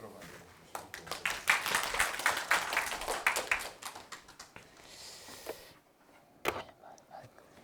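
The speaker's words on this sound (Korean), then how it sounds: "박정훈 선생님을 큰 박수로 맞이해주시고." Audience at a Korean lecture on part-time and platform labour claps to welcome a speaker, a dense burst of hand claps that thins out into scattered claps, followed by a single sharp clap and quiet.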